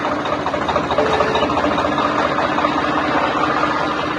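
A tractor engine runs steadily during the wheat harvest in a field near the Indo-Pak border, a loud, even drone with a faint vibrating chug that holds unchanged throughout.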